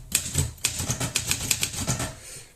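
Keys clatter on an Olympia Monica typewriter in a steady, slightly uneven rhythm, each crisp strike close and bright, about a dozen keystrokes in a couple of seconds with no voice over them.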